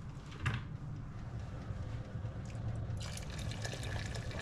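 Water poured into a pot of pancit noodles on the stove: a steady, soft liquid rush with a bubbling simmer underneath, fairly quiet and continuous, with no voices.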